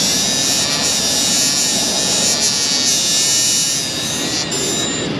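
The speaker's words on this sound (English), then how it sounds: "I'll deburr the pin. Because it's got a couple little burrs I don't like." A steady, loud high-pitched whine of a power tool deburring a brake caliper pin in an auto repair shop, running continuously without a break.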